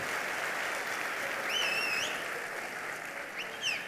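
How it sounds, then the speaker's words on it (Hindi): Steady applause from a crowd, continuous and fairly even, with a few whistling or chirping sounds rising over it. "सब लोग ताली बजाओ, ताली बजाओ"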